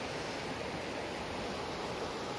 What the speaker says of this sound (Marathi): पाणी बघा कसं वाहतंय, पाण्याचा आवाज बघा